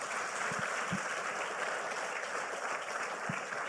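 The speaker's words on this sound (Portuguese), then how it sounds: "Vamos aplaudir Jesus nessa manhã." A church congregation applauds Jesus during a morning service, a steady, dense wash of clapping filling the room at even loudness throughout, with a few low thumps underneath.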